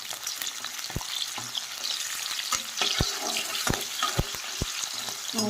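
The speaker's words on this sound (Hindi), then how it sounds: "हल्का सा प्याज को करेंगे हम फ्राई" Onions sizzling in hot oil in a home kitchen pan, a steady bright hiss broken by a handful of sharp clicks and taps from stirring, close and moderately loud with no talk.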